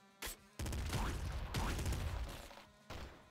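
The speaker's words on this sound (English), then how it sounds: "Crossbow. I love crossbows." Crossbow shots in the video game Nuclear Throne, several sharp, loud bursts in quick succession, each with a short ringing tail, set against game noise.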